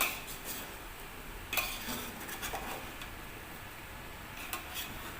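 Chicken curry being sautéed in a pot, with a low, continuous frying hiss. Occasional clinks of a spoon or ladle against the pot come through as the curry is stirred, at moderate, close-up volume.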